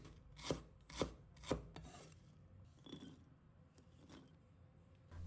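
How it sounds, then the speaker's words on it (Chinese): A knife slices a piece of fresh ginger on a cutting board, three crisp evenly spaced chops followed by softer, scraping cuts, close and quiet with no talking. "一块生姜，把它切成片。"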